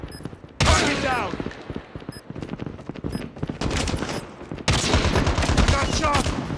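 Rapid bursts of automatic gunfire in Call of Duty Mobile rattle loud and close, two dense volleys broken by scattered shots, with game voices speaking over the action.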